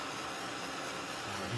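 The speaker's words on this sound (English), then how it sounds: "And a heat gun." A heat gun blows hot air in a steady, faint whooshing hiss that carries on unbroken, with a slight low rumble near the end.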